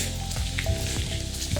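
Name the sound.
waterfalls at Diana's Baths, White Mountains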